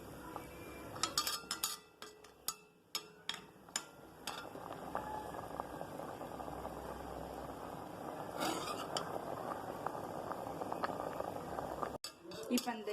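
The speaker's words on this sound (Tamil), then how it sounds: "ஒரு கொதி வந்தோடனே இறக்கிடலாம் நம்ம." Vada curry simmers in a pot of plenty of water and comes to a boil, giving a steady bubbling hiss with scattered metallic clinks of a utensil against the pot.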